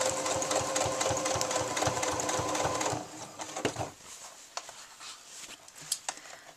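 A sewing machine runs in a rapid, rhythmic chatter while sewing lining to a bodice, then stops after about three seconds, leaving soft fabric handling and light clicks nearby.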